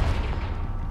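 A fiery Confringo spell blast from the game Hogwarts Legacy, a loud, heavy boom with a dense low-end rumble that holds steady for a full second without fading.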